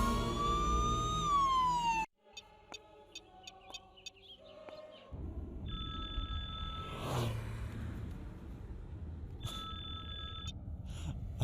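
An ambulance siren wails in a dramatic scene, opening with loud, falling and rising tones for about two seconds, followed by sparse chirps and later steady high tones over a busy background.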